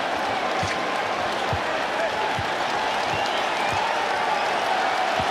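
A packed basketball arena crowd at a Boston Celtics versus New York Knicks playoff game roars continuously and loudly, with dull ball bounces thudding underneath the steady wall of cheering.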